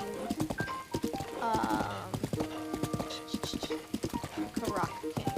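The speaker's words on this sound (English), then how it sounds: "The good news is I can just send the horse this way." Horse hooves clip-clop in The Legend of Zelda: Breath of the Wild, a steady galloping patter of game footfalls with a brief whinny, heard under someone talking over the gameplay.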